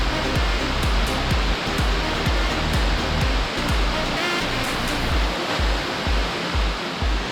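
A waterfall in Alabama roars steadily up close, a dense, loud rush of falling water filling the whole clip with constant churning noise.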